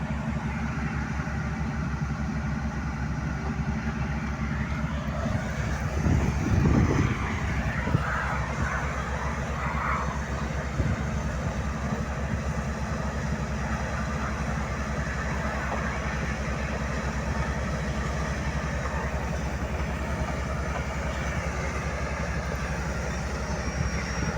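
Shantui and SEM tractors run steadily at work, giving a continuous low engine drone with a brief heavier rumble partway through, heard from a moderate distance.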